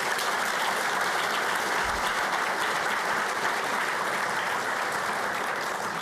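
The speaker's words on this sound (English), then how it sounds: "Please join me in giving them a round of applause and thanks." Steady, dense applause from a large audience at an education prize announcement, continuous clapping at an even level throughout with no voices standing out.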